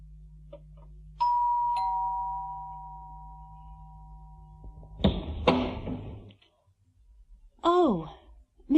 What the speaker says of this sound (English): He went to Bill's flat and rang the doorbell.